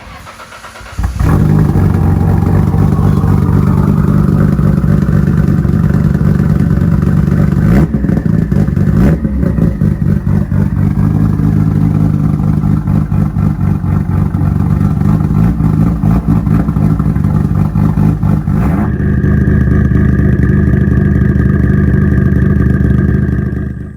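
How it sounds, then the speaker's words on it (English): Nissan R32 GT-R with a single-turbo RB27 stroker engine and new exhaust, idling loudly then revving repeatedly, a deep continuous drone close to the microphone with brief throttle blips and a steadier idle near the end. "I also put the exhaust on the car, so I'll put some exhaust clips up now"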